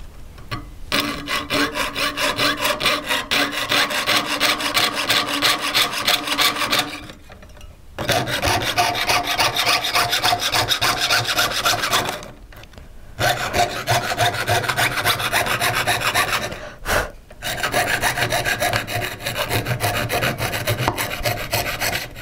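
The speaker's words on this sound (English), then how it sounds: "So let's get sawing." A jeweler's saw cuts metal pendant tabs in close, steady back-and-forth rasping strokes that run for long stretches, broken by three brief pauses.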